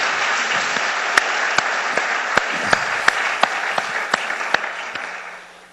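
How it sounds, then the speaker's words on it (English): An audience at a leadership talk applauds faculty leaders: a dense, steady wash of clapping with a few sharper individual claps standing out, sustained throughout and fading away at the end. "I think we ought to give our faculty leaders a round of applause"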